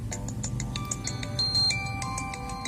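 A Nokia 6300 Music Edition mobile phone plays a bright electronic melody ringtone of quick repeating chime-like notes, loud and close, with nobody talking.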